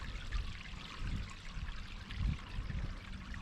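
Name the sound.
pond water flowing back into the skimmer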